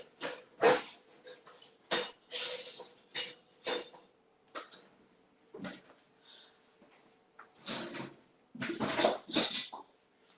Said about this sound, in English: Let me just get a big spoon.